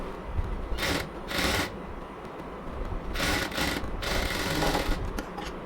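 A sewing machine double-stitches the waist of a child's frock in short bursts of rapid whirring, with pauses between runs.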